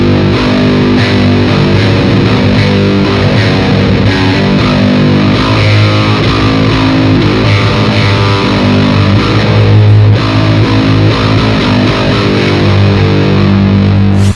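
Heavily distorted electric guitar riffs played through a Fortin Grind pedal, a dense, loud and continuous chug of palm-muted chords with no talking.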